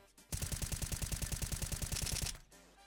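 A rapid, steady burst of about twenty muffled M4A1-S rifle shots in Counter-Strike 2, fired in quick succession, loud and close, then stopping abruptly.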